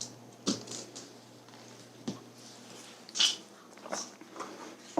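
A dog named DJ crunching and chewing a cucumber treat nearby, with several distinct bites and squishy chews spaced across a quiet room.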